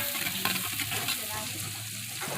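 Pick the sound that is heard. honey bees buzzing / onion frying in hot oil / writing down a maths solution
onion frying in hot oil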